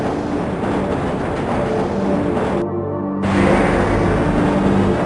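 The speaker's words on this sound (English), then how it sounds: "This train is inbound from Level 3 dormitories to Sector C test labs and control facilities." The Black Mesa tram from the game Half-Life running along its track, a loud, continuous rumbling roar with a brief dip in the middle before the clatter swells again.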